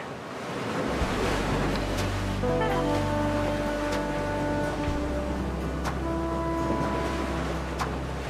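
Ocean surf breaking on a beach, a steady broad wash of waves with wind noise buffeting the microphone throughout, loud and continuous with a low droning hum underneath.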